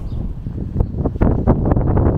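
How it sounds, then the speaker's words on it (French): Strong wind blows outdoors in bright sunshine, rumbling in gusty bursts against the microphone, loud and close, with no voices. "Le soleil frappe fort, mais il y a un vent à décorner les bœufs."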